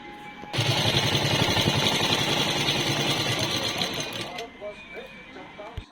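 Sewing machine stitching petticoat fabric, a steady rapid mechanical whir with rhythmic needle clatter running loud and close for about four seconds before stopping, with quieter handling noise afterward.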